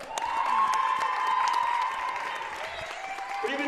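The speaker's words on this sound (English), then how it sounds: "please give a warm round of applause for Elissa Leung" A crowd in the stands at a Baruch College women's basketball game applauds a 1,000-point alum, with dense, steady clapping and cheering that holds for several seconds before thinning slightly.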